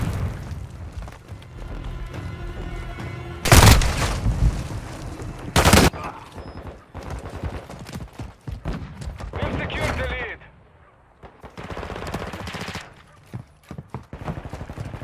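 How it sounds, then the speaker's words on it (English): Flash grenade and gunfire in a Call of Duty MW2 team deathmatch: two loud, sharp blasts a couple of seconds apart stand out from busy battle noise, with scattered shots, footsteps and shouted voices around them. "Throwing flash grenade!"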